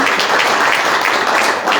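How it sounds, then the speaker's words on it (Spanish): Brief, loud burst of audience applause for a teacher at a memorial tribute for journalist Miguel Aponte Viguera, a dense continuous clapping wash with no pause. "Un aplauso al maestro."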